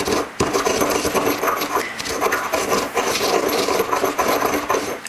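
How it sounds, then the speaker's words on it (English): Dried parsley and dill ground by hand, a steady close gritty rubbing and scraping that runs continuously with only a brief break near the start. "now I'm going to add the rest of my parsley and dill, and we'll grind them into slightly smaller pieces than what they are now"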